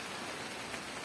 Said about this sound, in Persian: صدای بارون.